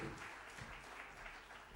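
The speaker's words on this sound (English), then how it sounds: "We have a huge round of applause, please." An audience at a book launch event claps in sustained applause, a dense steady wash of hands heard from within the hall.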